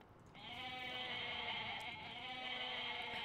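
A goat bleats in the Age of Mythology strategy game, a steady drawn-out nasal cry that holds for nearly three seconds, clear and alone with no talking over it.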